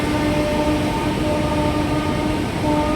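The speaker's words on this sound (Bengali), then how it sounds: "ট্রেন যাচ্ছে।" A train passes near the Farakka barrage, a steady loud rumble of wagons on rails with sustained tonal hum lines throughout, no talking.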